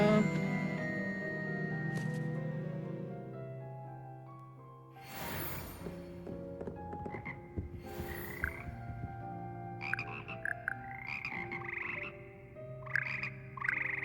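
Frogs croak in Hogwarts Legacy: a series of short, rising, ribbity calls, some in quick pairs, heard over a continuous low ambient game drone with occasional rustling.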